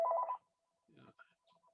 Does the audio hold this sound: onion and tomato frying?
no